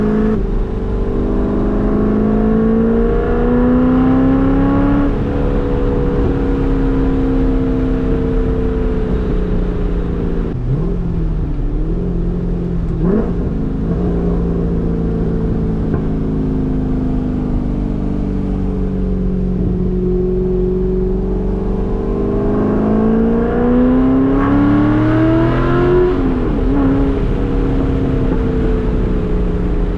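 A C5 Corvette engine revs hard in first gear and climbs in pitch, loud and close, easing off and pulling again several times.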